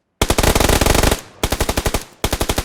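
Automatic gunfire in PUBG Lite, three loud close bursts of rapid evenly spaced shots with brief pauses between them and no talking.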